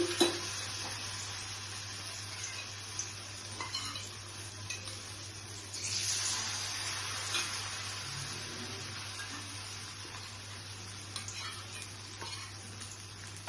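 Paneer frying a second time in the same hot oil, a steady quiet sizzle with occasional soft clinks and stirring scrapes, steady hum underneath, no voices.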